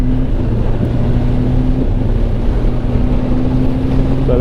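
A 2023 Kawasaki ZX-10R KRT edition sport motorcycle engine while riding: a loud, steady drone with a constant tone under heavy wind rush, holding even for the whole stretch with no talking.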